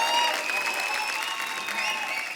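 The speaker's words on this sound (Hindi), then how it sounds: "एक बार जोरदार तालियां हो जाए।" A television studio audience on a comedy talk show claps steadily and loudly, a dense wash of applause with no talking over it.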